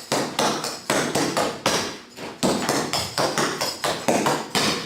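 Tap shoes beating out repeated flap steps from a tap routine: sharp, close metallic clicks in quick pairs and triplets on a hard floor, loud and rhythmic, with no talking.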